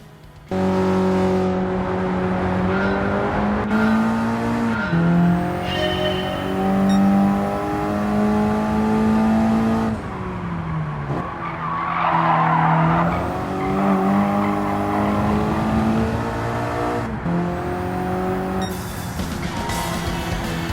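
A car in the Gran Turismo 7 racing game, driven through a National B license test, roars with a steady loud engine note that rises and falls between shifts, broken by a burst of tire squeal midway.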